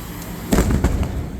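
Big fireworks bursting over the Nebuta Festival in Aomori, Japan, heard from a distant ship: two heavy booms in quick succession, each trailing a muffled rumble across the water.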